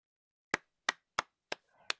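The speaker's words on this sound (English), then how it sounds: "Raul gave a small cheer and quick bit of applause." A quick burst of applause in the video game Cupid Parasite: five sharp, separate claps at an even pace, quiet and dry, with a faint rustle between the last two.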